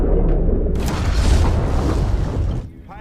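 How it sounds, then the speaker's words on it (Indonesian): A torpedo strikes a submarine and detonates in a film sound effect, heard as a deep, loud booming blast with a rushing rumble that swells and then cuts off abruptly after about three seconds. "torpedo pun mengenai kapal Volkov hingga meledak"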